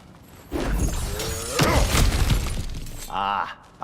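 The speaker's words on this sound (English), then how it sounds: "Ah, back to smashing through things for fun and profit." A barrier shatters and breaks apart in God of War Ragnarok, a loud crash with thuds and debris lasting a couple of seconds, while a voice talks briefly afterward.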